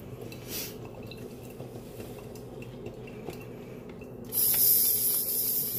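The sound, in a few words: Imusa espresso machine steam wand spitting water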